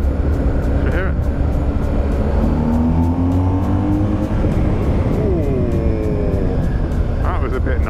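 A BMW R1250GSA motorcycle engine revs up and down with a deep, throaty growl, pitch rising and falling steadily, loud and close throughout.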